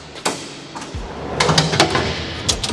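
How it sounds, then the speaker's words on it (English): An alloy slide-out pantry drawer is pulled from the fitout of a Nissan Y62 Patrol touring vehicle. It makes a loud clunk, then a run of rattling metallic knocks and rolling scrapes as it extends, close up with no talking. "MITS alloy slide out pantry."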